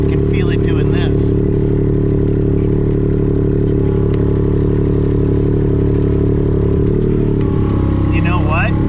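Mini loader engine runs steadily at close range while the machine grades a trench, a constant low drone with some clatter and scraping on top.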